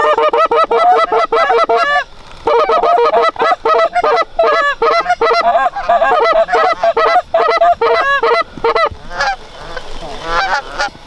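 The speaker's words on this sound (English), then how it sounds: "Geese." Flock of early-season geese honking loudly and continuously over a fresh-cut corn field, dense overlapping calls close by with brief gaps, fading slightly toward the end.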